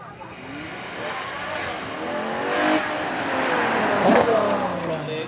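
A 789-horsepower 6.5 litre V12 supercar at the Beaulieu Supercar Weekend revs loudly nearby, its engine note sweeping up and down through rising and falling pitches over a busy outdoor background.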